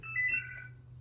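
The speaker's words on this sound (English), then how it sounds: "I swear that phone only goes off when I start recording." A home phone rings briefly indoors. One short electronic ring with a tonal warble is heard alone, fairly faint, and is followed by a small click.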